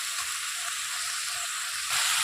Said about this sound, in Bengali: এটা দেওয়ার পরে আবারও কিছুক্ষণ একটু ভেজে নিতে হবে